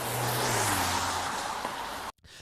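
A car drives past nearby, a steady broad roar of road and engine noise that holds for about two seconds and then cuts off abruptly.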